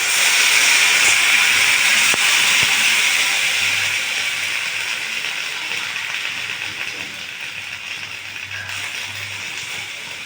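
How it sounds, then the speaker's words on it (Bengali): Water poured into a hot pan while making sour plum (kul) chutney gives a loud, steady hissing sizzle of steam that slowly fades over about ten seconds. "এবার জল দিয়ে দিলাম"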